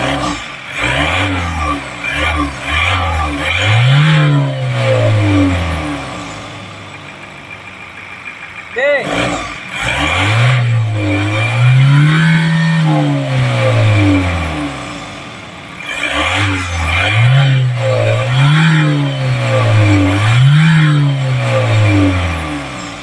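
A 2021 Ford Ranger pickup engine, just fixed of a misfire by replacing one injector, revs up and down repeatedly, rising and falling in smooth surges between idle stretches, loud and close, with talking mixed in.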